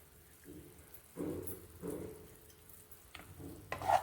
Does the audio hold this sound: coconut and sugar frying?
yes